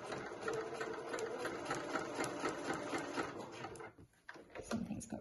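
A sewing machine runs steadily, stitching Lurex fabric for a fold-over clutch bag, a close mechanical whir that slows and stops near the end before a few brief handling noises.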